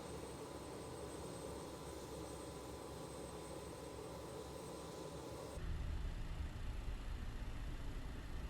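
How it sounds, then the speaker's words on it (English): A BAe 146-200QC cargo jet taxis out toward the runway, heard from inside as a steady, loud broadband engine roar whose tone shifts and deepens partway through, with no talking. "we're basically going to start our taxi out onto the runway"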